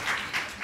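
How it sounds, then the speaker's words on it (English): Audience clapping at a supportive housing leadership event, a soft, fairly distant wash of applause that swells in a few brief pulses. "So we're going to be clapping a lot today"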